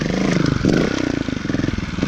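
A 2018 Beta Evo Factory 300 4T trials motorcycle rides over rock up close, its four-stroke engine chugging and blipping loudly with a rhythmic low thump throughout.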